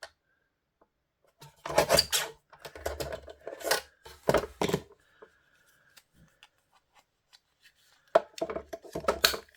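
Scissors snip through decorative paper with rose-shaped trim, in close, irregular bursts of short cuts separated by quiet pauses.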